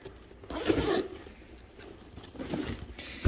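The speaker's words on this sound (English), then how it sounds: "Here is the zipper." A zipper on a power tool case is pulled open in two short rasping strokes, close by, with a quiet pause between them.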